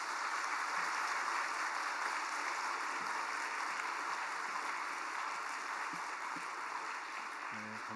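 Applause fills a church hall at a New Year's service as the congregation welcomes the pastor to the pulpit. Steady, dense clapping from many hands sustains evenly for several seconds, fairly distant and reverberant, with no voices above it.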